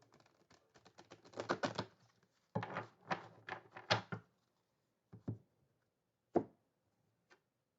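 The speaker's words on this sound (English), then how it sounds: "we need to shuffle some more." Tarot cards being shuffled by hand, a dense run of soft riffling and flicking card sounds in bursts, then a few sparse taps and slaps as the deck settles, quiet and close.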